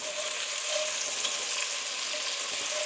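Minced garlic and ginger fry in a pan with cardamom pods and cinnamon, giving a steady, close sizzle with soft crackles and no talking.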